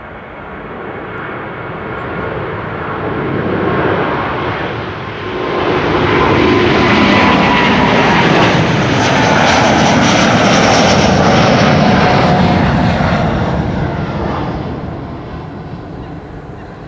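A Delta Air Lines Airbus A330neo jet at Amsterdam Schiphol Airport gives a sustained, loud engine roar that swells and peaks mid-way before easing off, broad and rushing like a close takeoff or fly-by.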